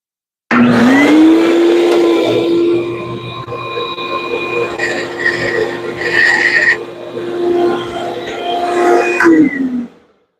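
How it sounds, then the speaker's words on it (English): A bandsaw runs loud and steady, whining through a cut in wood for a push stick and keeping a sustained tone until it spins down at the end, with brief higher-pitched squeals partway through. "So I'll make the cut, turn off the bandsaw, remove it, and then cut it the other direction"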